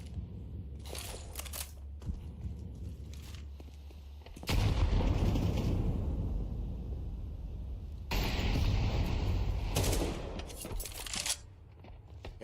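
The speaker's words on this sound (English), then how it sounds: "Relying on nothing but measly hand cannons." Hand cannon gunfire in a competitive tournament semi-final of a video game, with bursts of loud, dense shots that rise sharply partway through and continue in heavy volleys against a steady low rumble, without talk.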